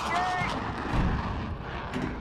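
Tank main gun firing a HEAT round in Gunner HEAT PC, a heavy booming shot with a rumbling tail filling the clip amid loud vehicle and battle noise.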